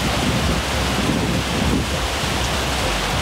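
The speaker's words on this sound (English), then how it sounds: "So I'm going to show you how heavy the rain is." A heavy tropical downpour in Siem Reap, Cambodia, with a dense, steady roar of rain hissing loudly and evenly throughout, without voices.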